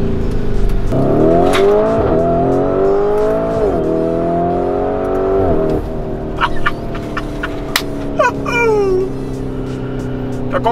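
A rare, exclusive car's engine revs and accelerates close by, its pitch climbing through several rising sweeps between gear changes, then sharp, higher-pitched revs and bursts toward the end.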